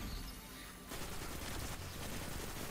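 In Destiny 2, a Ros Arago IV auto rifle fires dense, rapid gunfire that runs almost continuously with a brief break under a second in, loud and close with no talking.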